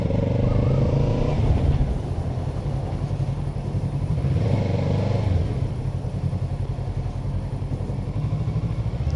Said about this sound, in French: Quand t'accélères ça fait vroom.